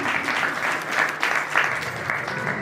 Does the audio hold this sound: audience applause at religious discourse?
yes